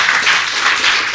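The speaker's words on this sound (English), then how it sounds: "So please, a round of applause for the hard work that the DataArt team" A room of attendees at an innovation showcase applauds a team, with dense, steady clapping that stays loud and even across the short stretch, no voices on top.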